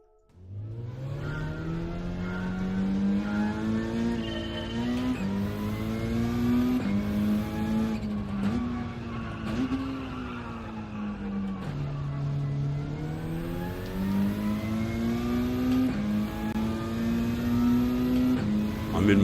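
A Group 3 race car in Gran Turismo 7 roars steadily throughout, its engine pitch climbing and dropping through gear changes as it accelerates and brakes around a track, loud and close with no talking.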